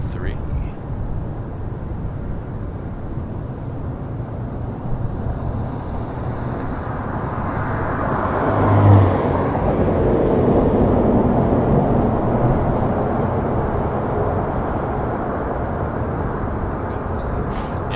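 An Air Canada Boeing 787-9 Dreamliner arriving from Seoul landing on runway 23 at Toronto Pearson, a broad jet roar swelling as it passes near the midpoint, then fading, under steady background rumble.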